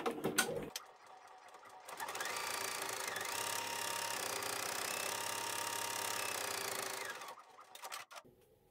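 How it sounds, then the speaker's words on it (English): An embroidery machine runs steadily for several seconds stitching an outer satin stitch, giving a fast, even mechanical whir and rattle, close and continuous, and then stops. "It's going to do the outer satin stitch on the bookcase."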